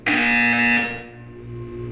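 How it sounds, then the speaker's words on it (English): A loud electronic buzzer from the video game Portal 2 sounds once, a harsh tone held for under a second before cutting away to a low hum. "When you hear the buzzer, look down at the floor."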